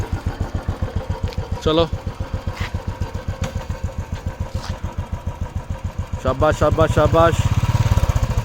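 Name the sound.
Royal Enfield Bullet motorcycle engine revving as wife learns to ride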